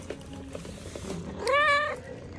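Quiet shuffling, then a single clear, drawn-out cat meow close by, rising and falling in pitch.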